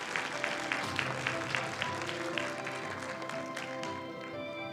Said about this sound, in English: please join me in giving another warm round of applause to Professor Host